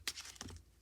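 Mermaid Tarot cards shuffled by hand, giving a short, quiet flurry of crisp papery riffles and taps that lasts under a second.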